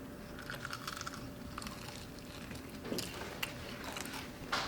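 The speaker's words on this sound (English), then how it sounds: "So let's take a bite and start off our battle with juiciness." Crunchy fried chicken bitten and chewed at close range during a Popeyes versus KFC tasting, with soft crackling crunches and wet chewing that build toward louder bites near the end, no talk.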